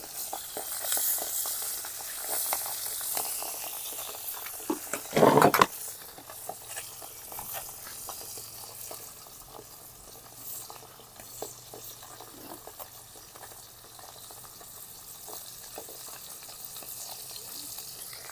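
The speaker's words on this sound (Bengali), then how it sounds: "তেল গরম হয়ে গেছে, এবার মাছ দিয়ে দিচ্ছি।" Pabda fish frying in hot oil gives a continuous soft sizzle, with one loud burst of spattering and clatter midway, then a quieter steady crackle through to the end.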